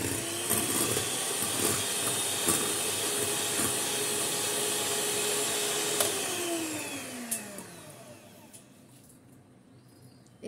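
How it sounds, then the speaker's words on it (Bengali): Sugar being beaten with an electric mixer for a chocolate cream cake: a steady, loud motor whine runs for several seconds, then slows and drops in pitch as it winds down to near silence. "চিনিটা এখন ভালো করে আমি গলিয়ে নিচ্ছি বিট করে"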